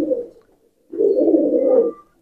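A pigeon pair with newly hatched male and female chicks coos nearby: a short coo, a pause, then a longer, louder rolling coo that fades out, with no talking.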